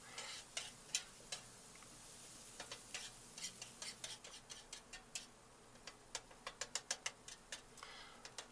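Big spatula scraping and tapping chili made from frozen hamburger on a Blackstone flat top griddle, quiet irregular clicks that quicken into a rapid run of taps over a soft, steady background hiss.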